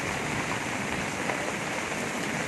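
Heavy pre-monsoon Kalbaishakhi rain falling in a steady, dense downpour, a continuous broadband hiss at even loudness with no voices.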